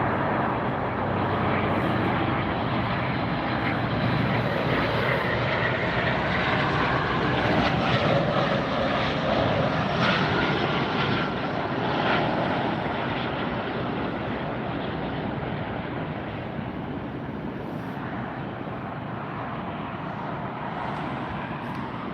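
An airliner landing at Tampa Airport, a steady broad jet roar at moderate distance that swells slightly midway and then slowly eases over about twenty seconds.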